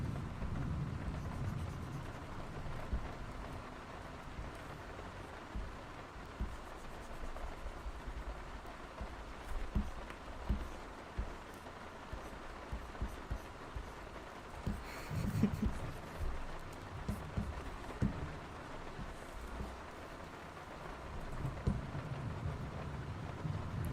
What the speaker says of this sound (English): They are merely rain sounds.